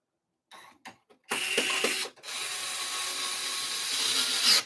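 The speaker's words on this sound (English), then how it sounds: "I'll put the screws back on." Screws being driven back into a white desktop PC case during a build, a few quick clicks followed by a steady close ratcheting whir that runs loud and continuous to the end.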